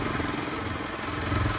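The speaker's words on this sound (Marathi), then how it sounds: "पहिल्यांदा चालवतो रे एवढी मोठी बाईक भेंडी" A big motorcycle engine running, a steady low rumbling drone close by with no clear revving.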